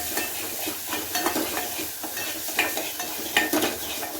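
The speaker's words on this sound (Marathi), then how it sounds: "आणि हे मसाला भाजून घ्यायचा" Spice masala with chili powder roasts in hot oil for spicy village-style mutton sukha, giving a steady close sizzle with scraping stirs and a few sharper clinks of a spoon against the pan.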